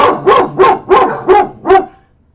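A dog barks five times in a quick, even series, loud and close, with each bark sharp and clear before the clip falls silent.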